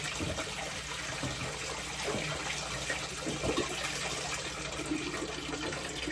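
Water rushing and splashing from a fish-room aquarium pump during water changes, a steady loud broadband wash that runs unbroken for several seconds with no talking.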